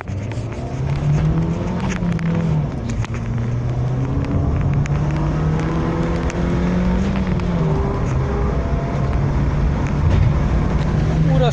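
Suzuki Ciaz sedan accelerating hard from a standstill toward 100 km/h, its engine tone climbing and dropping through several gear changes over about ten seconds, with a person talking over it.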